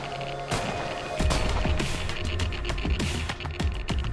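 Repeated gunfire from an attack on a headquarters in The Last Haven, a survival community-building game, sharp shots cracking out in an irregular rapid rhythm over a steady low rumble, fairly close and loud.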